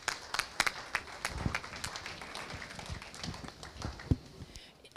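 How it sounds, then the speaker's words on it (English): Audience clapping at a winter farm show in Watertown after the first three exhibitors in a class, a scattered round of applause with sharp claps over a murmuring crowd. "let's go ahead and give these first three exhibitors a big round of applause"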